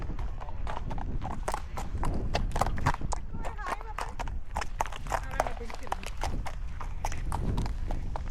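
Horse hooves clip-clop in a quick, steady rhythm close by for the whole stretch, with people's voices faintly mixed in.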